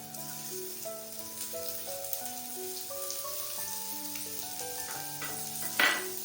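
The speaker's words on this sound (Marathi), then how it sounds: "थोडंसं तेल टाकते आणि त्याच्यामध्ये आता हा कांदा जो आहे मी उभा चिरून घेतला त्याला भाजून घेते" Sliced onion fries in a little oil for chutney, giving a soft, steady sizzle with occasional stirring scrapes under quiet background music.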